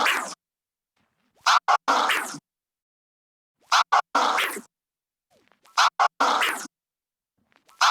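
Vinyl record scratched by a DJ in a 2-click flare combo ending with a push, heard as three separate bursts of sharp, chopped scratch strokes with brief silent gaps between them, loud and close with no talking.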